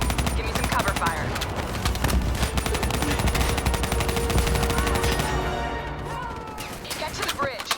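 Call of Duty: Black Ops III firefight with dense, rapid machine-gun bursts and overlapping gunshots, loud and continuous for several seconds before thinning out, while voices speak over the combat.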